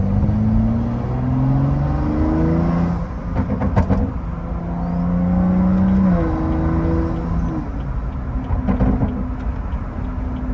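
Stage 2 FBO BMW 335 car engine accelerating from the driver's seat: loud, sustained rising engine drone through several gear pulls, with short rattling pops between shifts.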